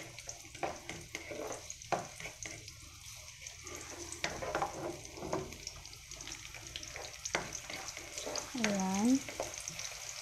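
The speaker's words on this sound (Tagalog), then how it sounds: "Pag mainit na yung ating kawali, maglagay na tayo ng mantika. Isatay lang natin yung ating bawang" Garlic and onion sizzle and crackle in hot oil in a frying pan, with occasional stirring scrapes; a brief word is spoken over the steady frying.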